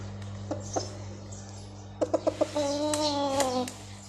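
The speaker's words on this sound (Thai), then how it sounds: "ตัวนี้จะเป็นไก่ป่านะครับ" A wild fowl gives a few short clucks, then a quick burst of clipped notes and a longer drawn-out crowing call, fairly close over a steady hum.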